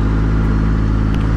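A Cummins diesel truck engine runs loud and close, a steady low rumble with a faint rise as the throttle is pumped, no voices over it.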